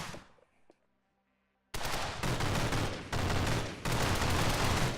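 Rapid bursts of gunfire in The Technician VR video game, loud and dense, erupting after a short near-silent gap and continuing in several sustained volleys with no talking.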